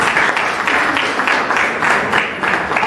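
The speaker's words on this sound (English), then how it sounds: "A big round of applause" Audience at a Women's Day event applauding, loud clapping that swells and dips in rhythmic waves, with no talk over it.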